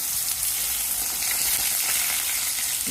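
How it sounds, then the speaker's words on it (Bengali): Koi fish sizzling and frying in hot oil in a village kitchen, a steady, dense crackle that fills the whole stretch without a break, close and fairly loud, with no voices. "তেল গরম হয়ে গেছে মাছ দিয়ে দিলাম"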